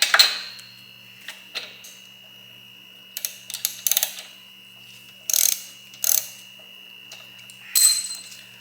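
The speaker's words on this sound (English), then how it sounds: "You're gonna use your 5/8 socket." Short bursts of ratchet clicking from a wrench with a 5/8 socket turning out a spark plug on a Briggs & Stratton mower engine, close and separated by quiet pauses, with light metallic handling between.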